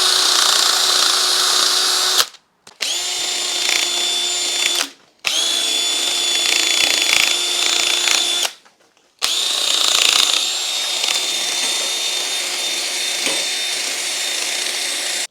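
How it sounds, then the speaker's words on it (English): A drill-mounted wire wheel scrubs surface rust off chrome, giving loud, close, high-pitched grinding whine in four sustained bursts separated by brief pauses. "we take our wire wheel or our steel wool if we want, and we just get stuck into that rust"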